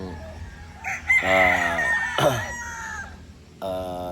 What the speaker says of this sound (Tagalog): napakagwapong mga manok